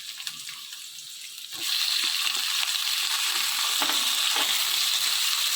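Raw prawns dropped into a pan of frying onions and green chillies, the sizzle jumping to a loud, steady hiss after a quieter start, with faint scraping stirs underneath.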